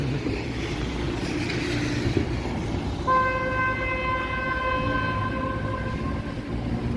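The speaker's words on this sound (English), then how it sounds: "Car honking at truck" A car horn on Yonge Street in downtown Toronto blares in one sustained honk at a truck, starting partway through and holding over wet evening traffic rumble.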